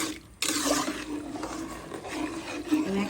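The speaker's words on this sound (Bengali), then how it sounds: "পরিমাণ মতো পানি দিতেছি" Water pours into a pot of basmati rice for pulao in a steady, rushing gush that starts abruptly and runs throughout, loud and close, with no speech.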